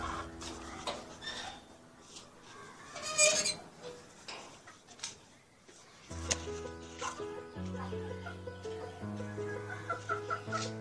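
About fifty laying hens on a rooftop cluck and murmur at close range, with scattered soft calls and a ticking rhythm. A steady tonal background drone comes in partway through.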